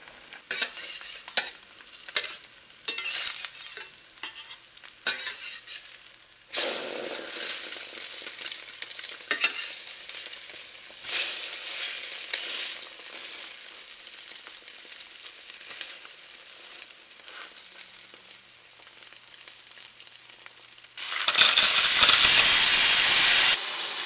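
Sprouted bread French toast fries in a pan with an irregular crackling sizzle and frequent utensil clatter, settling into a softer hiss before a sudden loud steam-like roar near the end.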